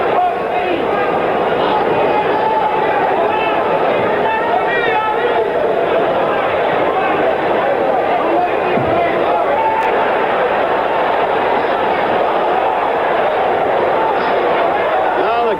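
A large boxing arena crowd at a 1977 heavyweight title bout grumbles, shouts and murmurs in disapproval, a dense, steady roar of voices that fills the hall throughout.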